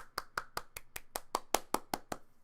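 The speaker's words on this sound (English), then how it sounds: "just give him a round of applause" About a dozen sharp, evenly spaced hand claps ring out alone and fairly quietly, a short burst of clapping from a single pair of hands.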